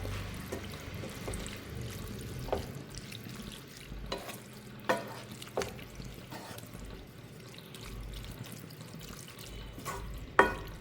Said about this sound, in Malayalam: ഇതിന് നന്നായി ഇളക്കി കൊടുക്കാം.